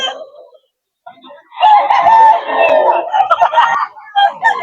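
A stag rooster crows close and loud in one drawn-out call lasting a couple of seconds, with a faint clucking and scattered noise before it and a crowded market background.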